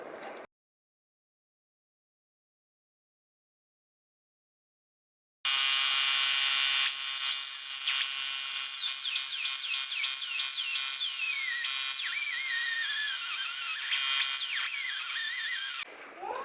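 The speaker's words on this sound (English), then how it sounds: "I only showed you guys a little bit of grinding" Metal brackets being ground for a turbo KA24E setup on a D21 Hardbody. After several seconds of silence, a loud, close, high whine starts and runs for about ten seconds, its pitch rising and falling as the tool bites.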